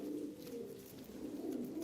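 Soft, steady cooing from racing pigeons kept in a loft, a continuous low throaty murmur that goes on without a break, fairly faint and with no talking.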